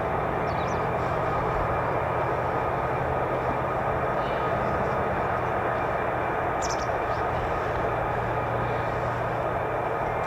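F-35A fighter jet with a Pratt & Whitney F135 engine at RAF Lakenheath, a loud, constant broadband roar with a deep low rumble sustained from start to finish.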